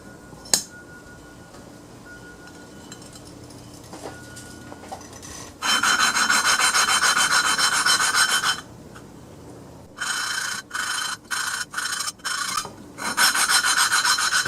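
Bursts of gritty rhythmic rasping, metal grinding against metal in back-and-forth strokes as a lawnmower engine valve is lapped, alternating with quiet pauses and short choppy scrubbing bursts.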